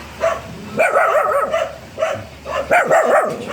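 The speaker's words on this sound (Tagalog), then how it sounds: "Tahol ka ng tahol." A dog barks repeatedly at close range during flooding, sharp yelping barks in several quick bursts with short pauses between them.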